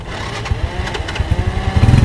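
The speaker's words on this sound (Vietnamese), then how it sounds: "đây là mình nổ máy con này" A running motorbike engine putters with a rapid, uneven pulsing beat, loud and close, with no talking over it.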